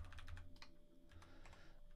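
Rapid key clatter from a computer keyboard being typed on up close, steady irregular clicks with a low hum underneath and no talking.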